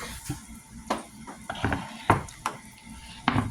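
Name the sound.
broccoli, steak and rice stirred and sizzling in a pan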